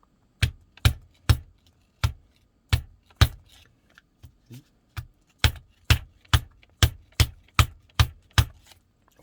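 Coins, 500-won pieces among them, are pushed one by one into a slot, giving a run of sharp metallic clicks and clacks at an irregular but fairly quick rhythm, clear and close, with no talking.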